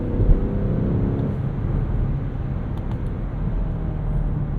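A 2023 BMW Alpina XB7 SUV accelerates hard, its engine a deep, steady low rumble that swells briefly at the start and then holds loud and continuous, with no talking.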